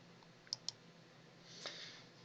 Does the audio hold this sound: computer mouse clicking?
yes